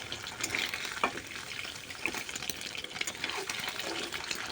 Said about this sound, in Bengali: তো দেখুন আমি উল্টে পাল্টে পনিরগুলোকে হালকা করে ভেজে নিয়েছি।